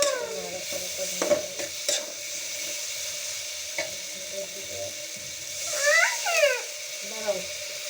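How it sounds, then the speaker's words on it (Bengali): Tomato and chili being stirred into frying dried loitta fish with garlic in a pan, giving a close, steady sizzle broken by spatula scrapes and clanks, with brief voice-like chirps partway through. "এখন দিয়ে দিব এই তো টমেটো, মরিচ দিয়ে নাড়াচাড়া করে নেব।"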